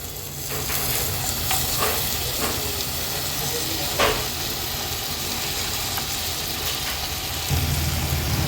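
Washed bean vegetables for traditional Bhogi bhaji hit masala in hot oil and are sautéed, giving a steady sizzle and hiss with occasional stirring clatter, close and continuous, with no talking.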